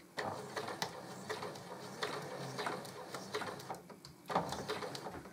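A home sewing machine runs a short burst of stitching toward a collar point on fabric, a steady mechanical whir with needle clicks, stopping briefly before a final short run; close and fairly quiet.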